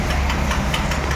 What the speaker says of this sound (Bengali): তো আমার বাইকটা স্টার্ট করে লইতেছি